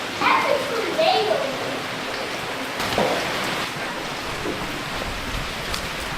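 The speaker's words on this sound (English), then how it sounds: "Oh my gosh, it's raining." Steady heavy rain hisses continuously, with children's voices calling out and chattering over it near the start.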